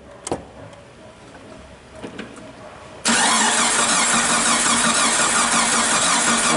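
A Jeep Cherokee XJ (1998–2001) with a failed fuel pump cranks on the starter without catching, a loud steady grinding whir that begins abruptly after a quiet stretch of faint shop noise and keeps going.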